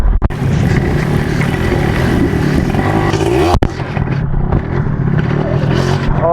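A motorcycle revving and speeding up on a wet road in the rain, its engine loud and close with a constant droning roar, briefly cutting out once before resuming, while someone talks over it.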